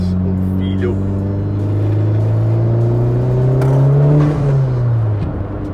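A Honda Civic Type R FK8 with a Stage 1 tune to 350 hp hums steadily under light throttle, the engine note rising slowly and then dropping back, heard from inside the car.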